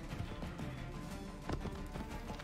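Rapid hoofbeats of a galloping horse in Assassin's Creed III drum steadily under a busy, noisy mix, close and fairly loud.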